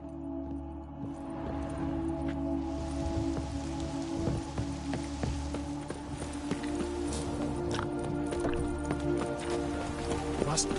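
Steady rain patters throughout in The Witcher 3, a soft continuous hiss with scattered drop taps, joined by clip-clopping horse hooves, while someone talks over it.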